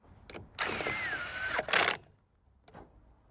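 A rusted 1969 Mustang engine after 27 years of neglect runs loud for about a second and a half, a broad roaring burst with a rising whine, followed by a brief second surge and a faint later blip.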